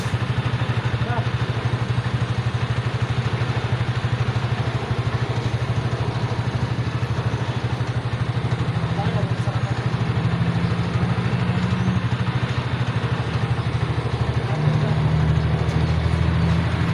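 A big motorcycle engine idles close by with a constant low rumble throughout, alongside steady background noise.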